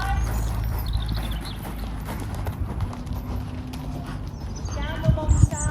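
A horse's hooves canter on an arena surface during dressage riding, a steady muffled rhythmic beat under wind noise and a rider's voice giving instructions.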